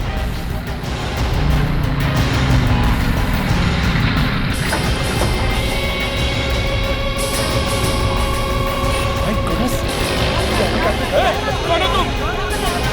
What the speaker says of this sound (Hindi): सेठ जी यहाँ ट्रैफिक बहुत है,